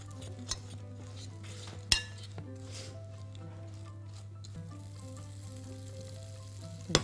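Chocolate melts in a pan while being stirred, giving a faint soft bubbling and scraping under a low steady hum, punctuated by a few sharp clinks of a utensil against the pan.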